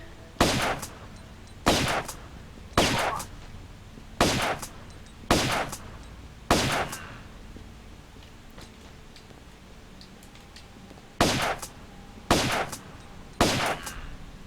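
Enemy gunfire in a Tomb Raider level echoes as sharp, evenly spaced single shots, about ten loud cracks with short gaps between them and a pause in the middle, each decaying quickly over a quiet background.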